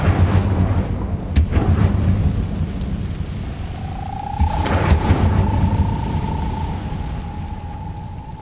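Incendio fire spell cast in Hogwarts Legacy, heard as sharp magical bursts and rumbling whooshes over a steady ambient rumble, with a sustained glowing tone drawn out in the second half.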